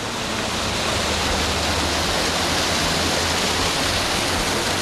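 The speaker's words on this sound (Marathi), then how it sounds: "हा बहुत जास्त हाईटवरून पडत आहे हा वॉटरफॉल इथपर्यंत" A tall waterfall at Matheran dropping from a great height after rain: a dense, continuous roar of rushing water, loud and steady with no pauses.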